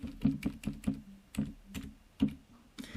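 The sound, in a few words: typing keyboard shortcuts on a computer keyboard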